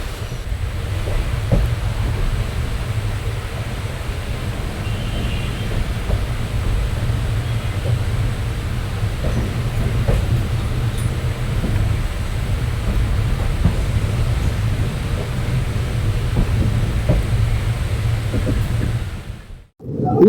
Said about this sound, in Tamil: இந்த ரூட்ல 40 வருஷமா கேட்காத ரயில் சவுண்டு இப்ப திரும்பவும் கேட்க ஆரம்பிச்சிருக்கு